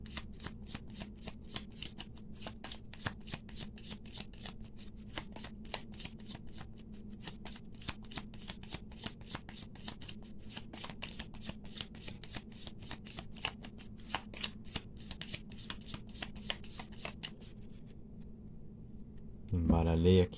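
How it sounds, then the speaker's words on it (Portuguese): Tarot cards riffled and shuffled by hand in a continuous run of crisp, rapid flicks and clicks, close and fairly quiet, ending in a brief louder handling noise. "Embaralhei aqui então para você, cortando 8 cartas na mesa"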